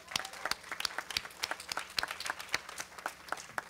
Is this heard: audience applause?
yes